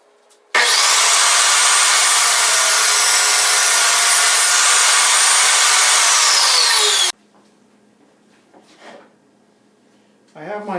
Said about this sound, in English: I already have my table saw set up for squaring this piece.